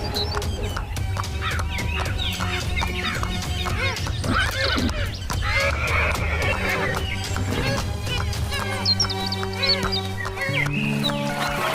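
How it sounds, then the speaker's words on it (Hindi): A horse whinnies and its hooves clip-clop as a king rides off toward a magical pond, set against dense background music in a fantasy tale; the neighing and hoofbeats run steadily through the passage. "राजा अपने घोड़े पर सवार होता है और जादुई तालाब की तरफ रवाना हो जाता है।"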